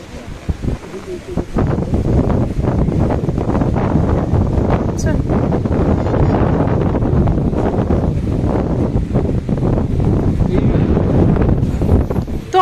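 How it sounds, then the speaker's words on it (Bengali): Strong wind buffets the microphone continuously near Seven Sisters Falls in Cherrapunji, a rough, rumbling roar that stays loud throughout with little letup. "হাওয়া দিচ্ছে আমার"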